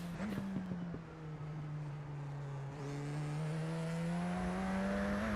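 A Radical race car engine in the iRacing sim, a steady droning engine note that holds a near-constant pitch, then swells and rises slightly toward the end with a thin high whine, no talk.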